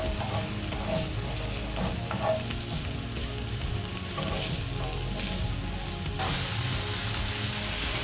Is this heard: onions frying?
yes